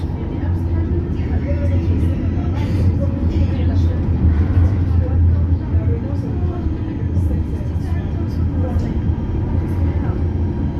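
A continuous low rumble of highway traffic near Paris fills the scene, loud and steady, with a voice talking faintly underneath.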